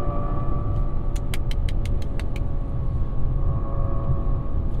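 2021 Toyota Mirai fuel cell car driving on a winding road, a steady cabin hum and road rumble with a constant mid-pitched tone, plus a quick run of about eight sharp, evenly spaced clicks partway through.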